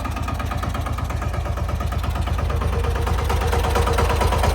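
A tractor engine runs nearby with a steady, pulsing diesel chug at a fast, even beat, holding constant and fairly loud with no talk over it.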